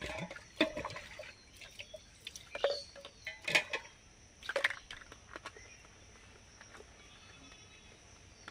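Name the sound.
washing baby milk bottles with a bottle brush and water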